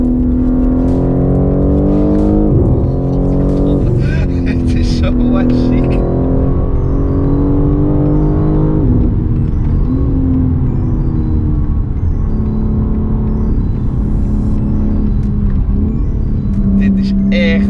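A BMW M3 xDrive with 510 hp drives near the Nürburgring, its engine droning steadily and close up, with the pitch rising and falling through gear changes, while people talk over it throughout.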